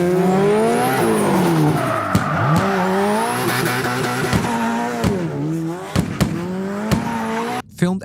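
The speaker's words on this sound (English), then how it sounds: "Block drifted an all-new course in a freshly tuned Subaru Impreza WRX STI." A freshly tuned Subaru Impreza WRX STI drifts an all-new gymkhana course at the Port of Los Angeles, its engine wailing through rising and falling revs with sustained tire squeal, loud and close throughout, with sharp bangs near the end.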